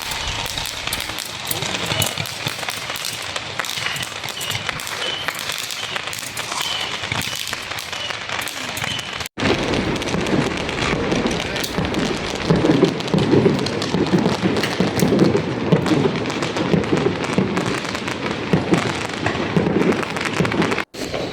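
Fireworks at a Liuyang fireworks show crackle continuously in a dense, loud rain-like barrage, with popping bursts throughout and a crowd murmuring in the background.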